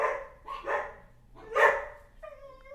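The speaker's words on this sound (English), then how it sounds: "Ignore the dogs." Dogs bark indoors in a few sharp, separate bursts, followed by a short tonal yelp or whine, moderately loud and fairly close, with no talk.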